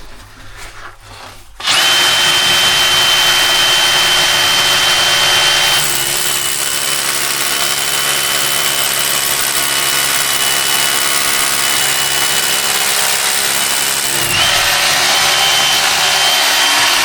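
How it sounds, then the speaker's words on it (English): A loud hammer drill with a 12-inch bit starts abruptly and grinds continuously into cave rock for many seconds, its pitch and intensity shifting midway, close and harsh with no talking. "All right, I have my hammer drill set up."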